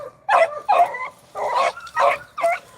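Beagle pups chasing rabbits outdoors give five sharp, loud yipping barks in an even, bouncing rhythm, close by.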